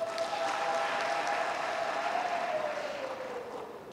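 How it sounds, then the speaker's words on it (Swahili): Continuous applause from a seated audience at a graduation ceremony, a dense, even clatter of many hands clapping at moderate distance, with a faint steady tone running underneath. "Si haba, angalau nimepiga makofi."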